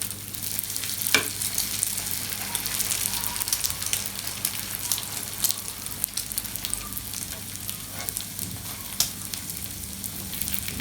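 Lachha paratha, a multi-layered flatbread, frying in hot oil: a steady, close sizzle and crackle continues throughout, with occasional sharper pops and soft clinks.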